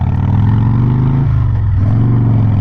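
A 2004 Harley-Davidson Softail Fat Boy motorcycle idling up close, a loud, deep, lumpy engine rumble with a slight dip in pitch partway through, steady and unbroken throughout.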